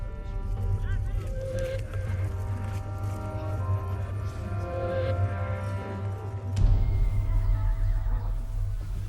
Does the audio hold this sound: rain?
no